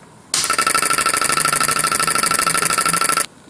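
A small DC motor driving a simple box-built vibration shaker runs at 3 volts, kicking on abruptly into a loud, steady buzzing rattle for about three seconds before cutting off sharply.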